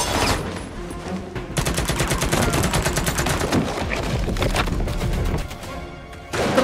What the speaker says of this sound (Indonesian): lalu terjadilah baku tembak yang cukup membrutalkan